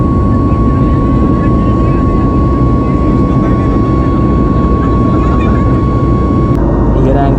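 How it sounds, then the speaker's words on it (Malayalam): Jet engines of an airliner in flight give a loud, steady, close roar with a constant high whine layered over it, running unbroken throughout. "ഈ ഒരു ആംഗിൾ നോക്കി നമ്മുടെ എൻജിൻ റൺ ചെയ്യുന്നത് കാണാൻ പറ്റും"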